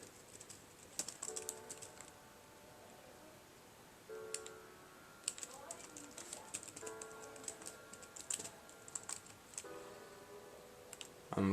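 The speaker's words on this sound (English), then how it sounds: "so I'm sorry if it seems as if I am typing very slow" Fingers type on the keyboard of a Dell Precision M4400 laptop, irregular bursts of close, crisp key clicks with short pauses between words, over soft steady background tones.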